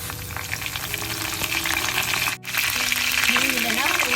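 Fennel seeds and curry leaves fry in hot oil for a Tamil mushroom curry, a loud, steady crackling sizzle throughout with one brief dip midway, and faint voices in the background.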